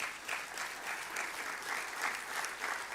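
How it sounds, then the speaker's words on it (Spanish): Sustained applause from a church congregation during a sermon, a dense steady wash of many hands clapping at even loudness for three seconds with no voices over it. "¿Podemos darle un aplauso a la palabra del Señor?"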